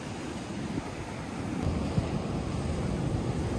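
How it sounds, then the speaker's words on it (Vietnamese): Afternoon sea waves wash steadily onto a beach, a continuous surf roar mixed with gusting wind buffeting the microphone. "Biển buổi chiều thật đẹp đúng không các bạn?"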